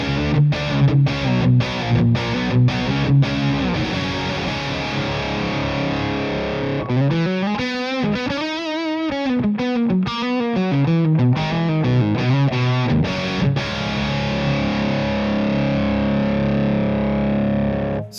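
Electric guitar played through an AmpliTube Orange amp simulation, heavily distorted and loud, with rhythmic chugging strums at the start giving way to sustained, sliding chords and bends that ring on steadily throughout.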